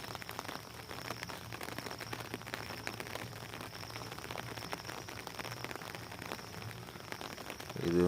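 Steady rain falls on a jasmine (malligai) flower field during picking season, a dense, even patter with a few louder drops, continuous throughout and with no talking.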